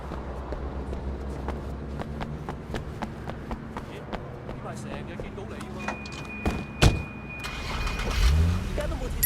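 Car in the Sleeping Dogs Definitive Edition video game: a low engine hum runs under rapid ticking and clicking, with a character talking over it and a brief bump and a revving swell near the end.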